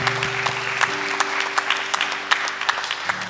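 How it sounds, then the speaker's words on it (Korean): A church congregation claps during a Sunday worship service, a steady patter of many hands with a low sustained organ or keyboard tone humming underneath. "우리 한번 박수를 한번 하겠습니다."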